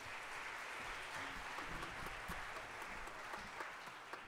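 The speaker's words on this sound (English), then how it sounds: "Give them a round of applause." A jazz concert audience gives the featured soloists a continuous round of applause, a dense even wash of clapping that sounds soft and somewhat distant throughout.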